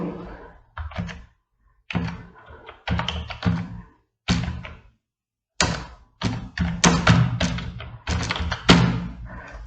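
Someone types on a computer keyboard while working in Microsoft PowerPoint, bursts of close, fairly loud clacking keystrokes separated by short pauses, with no talking.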